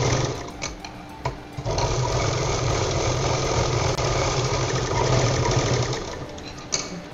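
Electric sewing machine stitching the bottom seam of a handmade cloth purse, a steady close whirring hum with rapid needle rhythm running continuously, briefly pausing near the start and again before the end.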